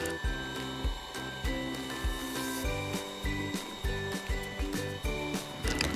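An electric mixer on its highest speed beats egg yolks in a bowl, a loud continuous whir with rhythmic pulsing strokes as the beaters cycle through the batter for a marble cake, with no speech.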